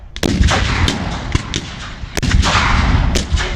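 Rifle volleys crack out at a US Civil War re-enactment, several sharp, loud shots in an irregular run with booming echoes and a constant outdoor rumble between them.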